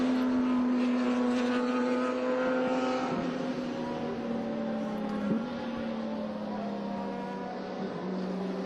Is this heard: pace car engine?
yes